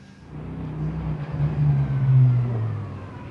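A McLaren GT race car at Silverstone during a GT Cup pit-stop race drones past in the background, its engine note swelling to a peak and then fading steadily.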